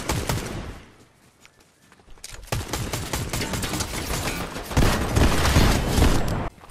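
Rapid bursts of automatic gunfire from the Fortnite battle royale game, a short pause then sustained, dense volleys of shots and impacts that grow louder toward the end.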